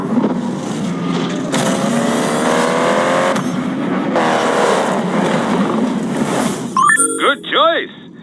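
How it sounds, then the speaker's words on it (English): A Honda S2000 roadster's VTEC engine revs hard in Need for Speed Payback, with rising and falling whines and gear-shift sweeps, joined near the end by tire squeals and quick engine blips over background music. "The S2000 Honda's homage to the roadsters of the 60s."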